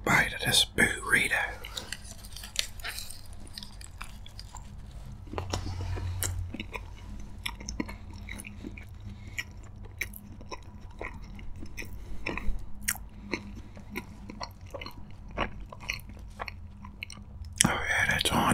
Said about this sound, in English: Let's take a bone-crunching bite of this burrito.